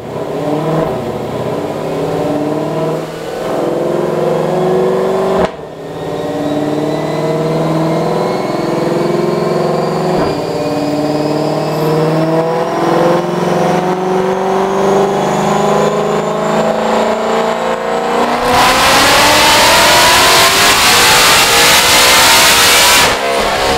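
A supercharged 2020 Ford Shelby GT500 with a ported blower revs on a dyno in a full-RPM pull, its loud whining engine climbing steadily in pitch before a harsh roar at the top end.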